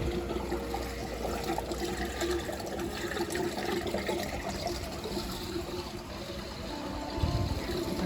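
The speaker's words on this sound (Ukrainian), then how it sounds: "Там поступає чиста вода, потім звідси виходить." Clean water flows and trickles steadily at low volume in Sarzhyn Yar, Kharkiv, a continuous gentle wash with a brief thud near the end.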